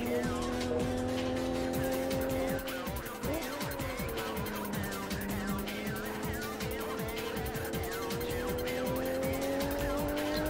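Simulated car engine revving hard in the PS1 racing game Tuning Car Battle Spec R, the pitch climbing and dropping as gears are forced up and down, with brief tire squeal, loud and steady throughout.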